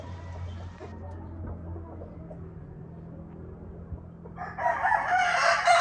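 Asil rooster in a barred rock breeding pen on a native chicken farm, crowing once loudly near the end over low farm background hum.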